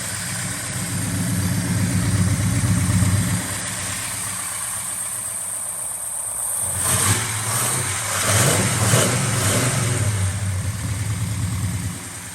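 A 1969 Chevelle SS with a fuel-injected 454 V8, headers and electronic ignition idles with a deep, loud rumble, then revs hard partway through before settling back to a throaty idle.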